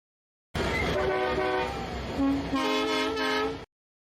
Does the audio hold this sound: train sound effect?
yes